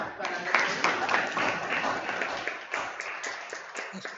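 Applause from an audience after a philosophy presentation, a dense steady patter of many hands clapping for about four seconds at moderate level.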